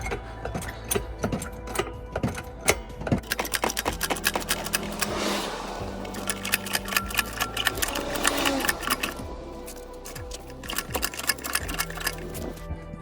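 An Alfa Romeo Giulietta being jacked up on a slight slope gives off rapid, repetitive mechanical clicking and ratcheting that continues in uneven bursts, close by and with no talking.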